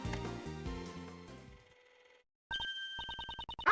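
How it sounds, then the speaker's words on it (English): In the video game Ace Attorney Investigations 2, background music fades to silence, then a cell phone ringtone starts: a loud electronic trill pulsing in quick, regular bursts. "Judge Courtney's cell phone is ringing."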